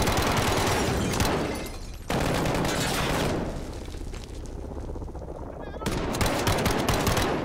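Heavy automatic gunfire rattles through a firefight in the video game Modern Warfare, long sustained bursts with a brief lull before firing resumes.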